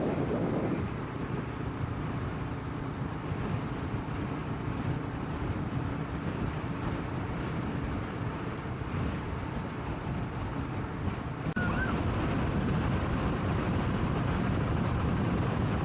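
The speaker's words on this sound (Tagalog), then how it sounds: "Hindi pa masyadong malakas yung hangin ngayon dito sa Skyway." Steady wind rumbles against the microphone of a motorcycle riding the Skyway elevated expressway near EDSA Magallanes, Manila, alongside a low traffic drone, with a sharp shift in tone partway through.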